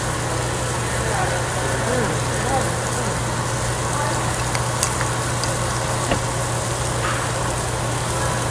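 Beef short ribs and bacon sizzle steadily on a tabletop grill at a Japanese steak buffet restaurant, a constant hiss over a low hum, with faint background voices and occasional small ticks.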